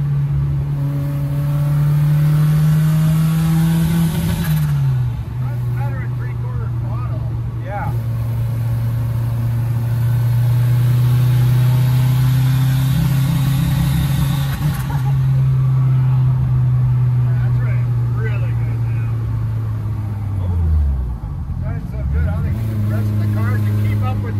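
A VW Rabbit with a 16v turbo engine runs in a loud, sustained drone that sags and cuts out around five seconds and again near twenty seconds before recovering, with muffled voices now and then.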